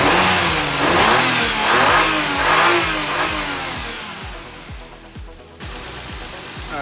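A Toyota JZX90 engine runs and revs loudly up close, climbing and falling through several throttle blips before settling toward a lumpy idle, with no talk over it.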